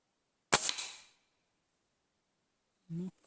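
A single sharp shot from a Hatsan 125 air rifle with a scope cracks close by with a short ringing tail, followed by silence and a brief muffled voice.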